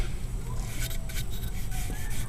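Rasp filing wood on the push stroke, a close, continuous coarse scraping with a few faint rhythmic strokes and no talking over it.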